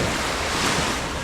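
Steady broadband wash of sea waves on the beach at Inflatable Island, Olongapo City, Zambales, with light wind noise, continuous and fairly loud with no talking.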